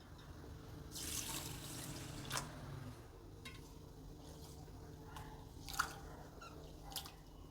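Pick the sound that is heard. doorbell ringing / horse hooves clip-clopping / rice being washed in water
rice being washed in water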